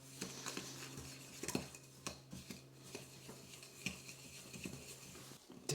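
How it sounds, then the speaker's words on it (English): Sugar being creamed into cherry loaf cake batter in a bowl, producing quick, irregular clinks and scrapes of a utensil against the dish, close and fairly quiet. "we're going to cream the two together until they are nice and creamy"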